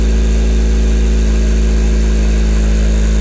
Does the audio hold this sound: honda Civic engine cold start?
yes